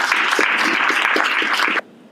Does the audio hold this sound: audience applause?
yes